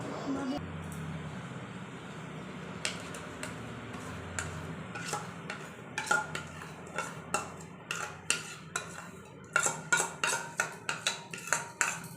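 A spoon stirs mango paste in a lightly heated kadai while making ripe mango sandesh, giving a run of clinks and scrapes that grow more frequent toward the end, close by over a low steady background.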